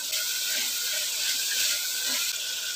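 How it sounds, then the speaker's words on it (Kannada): Ginger garlic paste and chili powder frying in oil on a medium flame, a continuous close hissing sizzle with no talk. "ಇದೆಲ್ಲ ಹಸಿ ವಾಸನೆ ಹೋಗೋವರೆಗೂ ಫ್ರೈ ಮಾಡ್ಕೊಳ್ಳಿ ಮೀಡಿಯಂ ಉರಿಲಿ"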